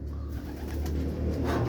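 A racing pigeon coos softly on arrival at its loft after a race lap, a low murmuring call repeating under steady background rumble, quiet and close with no talking.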